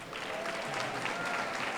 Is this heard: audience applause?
yes